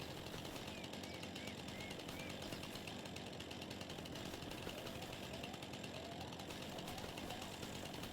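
A chainsaw in the Farming Simulator 25 video game gives off a continuous, faint buzzing drone that holds steady throughout without pauses or revving.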